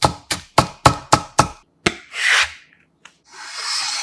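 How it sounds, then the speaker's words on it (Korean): A knife on a wooden cutting board: seven quick, evenly spaced chops, then a couple of scraping rubs and a final click while half an onion is sliced and scallions are finely chopped, close and with no talk. "먼저 달큰한 양파 반 개를 살짝 굵게 채 썰어주고 알싸하게 쪽파 2개는 반을 잘라 쫑쫑 썰어 준비합니다."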